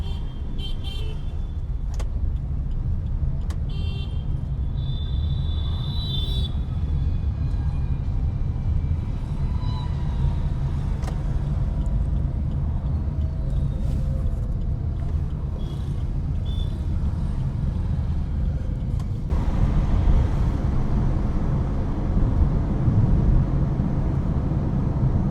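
Steady road traffic on a Gurgaon street at night near a mall and hotel, a continuous low rumble of passing cars with occasional faint horn toots, growing slightly louder toward the end, no talk.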